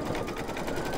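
An embroidery machine stitches out a baby bib design, its steady, rapid needle chatter running close and continuous with no pauses.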